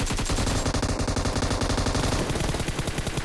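Rapid bursts of gunfire in the mobile battle royale game BGMI, dense automatic shots rattling continuously and loudly throughout, with no voices over them.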